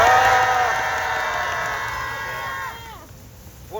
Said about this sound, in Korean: 함께 박수로 환호합시다